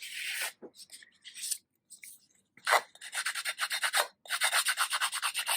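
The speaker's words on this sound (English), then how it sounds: "I'm going to just sort of rough up that edge" The edge of a paper tag is roughed up, close scratchy rubbing in irregular bursts that turn into quick rhythmic strokes.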